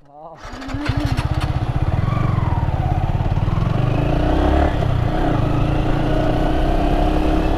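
A motorcycle engine starts up and settles into a steady, loud running drone close by, continuing throughout.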